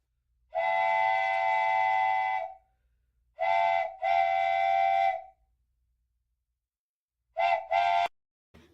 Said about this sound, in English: the train is leaving the station.